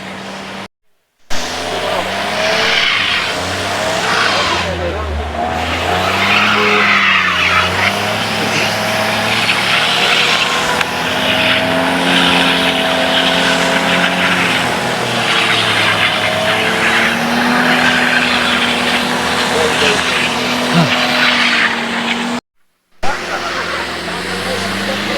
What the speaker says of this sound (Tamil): வண்டி ஒன்றுமே போக மாட்டேங்குது, பயங்கரமாக ஸ்கிட் ஆகுது.